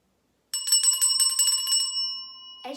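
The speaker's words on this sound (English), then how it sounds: "The instrument we're going to learn about now is the bell." Colored, numbered handbells are rung in a quick run of bright, clear strikes that ring out together and hold. A final, separate strike comes near the end, with no talking.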